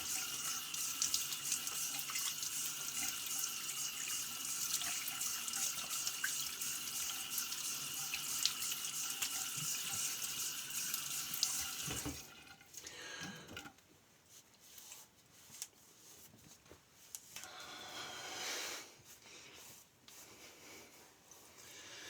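Tap water runs steadily into a sink to rinse a vintage A1 Autostrop safety razor fitted with a Gem blade, a loud continuous splash for about twelve seconds, then cut off and followed by quieter drips, rattles and handling sounds.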